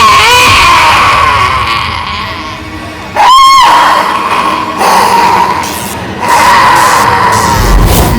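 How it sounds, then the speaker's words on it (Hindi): A ghostly woman's scream from a CID TV crime drama, a sharp wavering wail that cuts in loudly for about half a second midway and stands out against a busy, steady background of music and ambience. "चिल्लाने की आवाज सुनी?"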